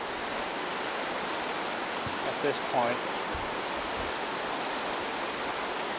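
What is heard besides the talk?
flood water flowing out of main channel and over the diversion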